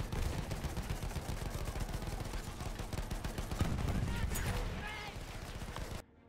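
Rapid machine gun bursts in Battlefield 1, a dense rattling stream of loud shots that keeps going for several seconds, with other gunfire mixed in, then cuts off abruptly.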